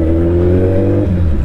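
Motorcycle engine on a night ride, revving steadily with a loud droning note that drops in pitch near the end, close up and without speech.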